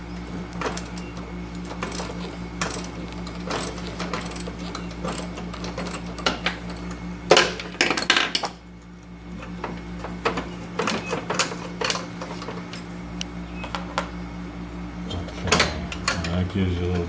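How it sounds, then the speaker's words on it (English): A bolt on a 42-inch Husqvarna YTA18542 riding mower deck is loosened with repeated metallic clicks and ratcheting taps over a steady background hum, with a short break near the middle and brief talk. "come over here to this bolt right here and loosen it up so we can get some tension off of"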